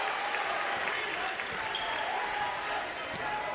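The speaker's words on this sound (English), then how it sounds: "The Milford crowd loves that" A basketball home crowd in a gym cheers and applauds after a made three-pointer in a high school game, a steady wash of noise at moderate distance.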